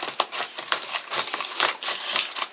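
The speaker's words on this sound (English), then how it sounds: "I have to find my scissors. So we're gonna go ahead and cut this open" Scissors snip and crunch through plastic tripod packaging in quick, irregular cuts, with crinkling plastic between the close, crisp strokes.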